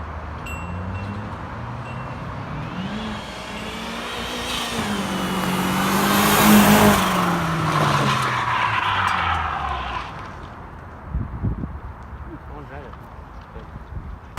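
A turbocharged go-kart with a Miata engine revs up and swells to a loud peak before easing off, the engine note rising and falling; a person speaks briefly near the end.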